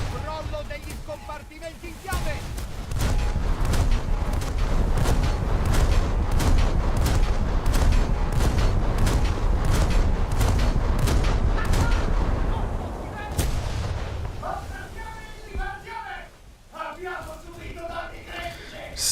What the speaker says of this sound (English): there goes a detonation in the magazine